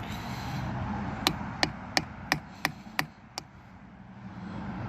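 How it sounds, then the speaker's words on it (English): Seven sharp hammer knocks ring out at an even pace, each a crisp metallic strike, knocking a canopy weight into place, close by over a low background hum. "hit the top here with the hammer and knock it in."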